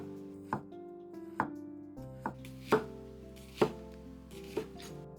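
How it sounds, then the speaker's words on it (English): A knife cuts through a halved matsutake mushroom in thin slices. Six crisp, separate chops land on a board at an unhurried pace, close and clear, with soft background music and no talk. "I cut it into half and slice it thinly."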